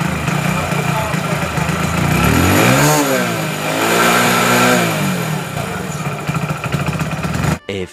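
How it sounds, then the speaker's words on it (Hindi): A Hero HF Deluxe BS6 motorcycle with a misfiring engine idles roughly, revs up twice and falls back, then stumbles and cuts out near the end, heard close with someone talking over it. "ये बाइक रेस ही नहीं हो रही, अब जाके रेस हो रही है और बाइक बंद हो रही है बार बार से जो है।"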